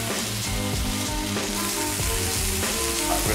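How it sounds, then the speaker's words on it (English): Onions and butter sizzle steadily in a hot skillet, a loud, dense, continuous crackle with small pops throughout, close up and with no talking. "then we're gonna add some onions and butter in the skillet. Get that going."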